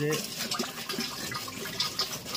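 Water is poured and splashes onto a lime and jaggery mix for exposed brick work, an uneven, close trickling and spattering with a voice faintly audible in the background.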